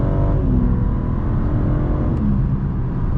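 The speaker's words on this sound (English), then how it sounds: "You just tap the gas a bit and it jerks you around a bit, revs up the engine." A 2024 BMW M4 Competition xDrive engine revs from inside the cabin, a loud, steady low rumble with a rising then easing engine note, heard alone.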